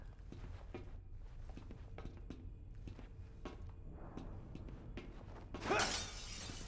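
Glass shattering in the video game Resident Evil 6, a single bright crash arriving late after a stretch of soft, irregular footsteps and clatter, heard close with no voices.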